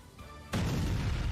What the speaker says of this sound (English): I know you've got explosion sound effects